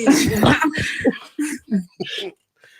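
A series of harsh coughs, close and loud at first, then shorter hacking bursts that taper off into quiet.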